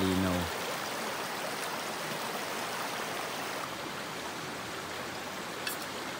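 Steady broadband rush of flowing river water, continuous and even throughout, with a brief low voice-like sound at the very start.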